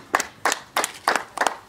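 Guests at a small wedding clap in a steady rhythm, six sharp, closely paired hand claps spaced evenly, fairly near, with no other sound.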